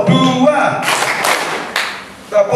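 Schoolchildren at a primary school clap in a concentration clapping game: a voice opens, then several loud broadband bursts of group clapping follow in quick succession before the voice returns.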